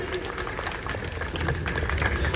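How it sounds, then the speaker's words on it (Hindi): Audience applause at a public gathering in Dwarka, Delhi, a moderately loud, irregular patter of many hands that builds slightly toward the end, with some crowd noise underneath. "जोरदार ताली हो जाए उनके लिए।"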